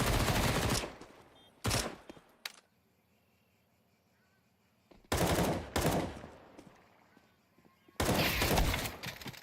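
Video game gunfire in an esports match, including a Mag 7 shotgun, erupts in loud rapid bursts separated by quieter gaps with faint background game sounds.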